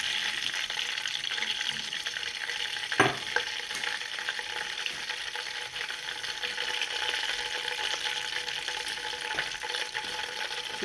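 Oil for Egyptian stuffed vegetables (mahshi) sizzles and crackles steadily in a pan, a constant bright frying hiss with a brief louder pop near the start.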